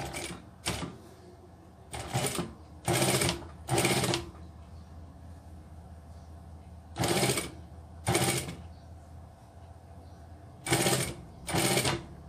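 A high-speed sewing machine stitches shoe fabric in short, loud, close bursts of rapid whirring, each lasting about a second, separated by pauses of near silence. No one speaks.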